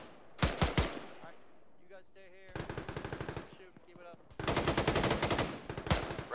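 Automatic gunfire in the military game Arma on Chernarus, rattling in three rapid bursts that grow longer and louder toward the end, with only brief quiet gaps between them.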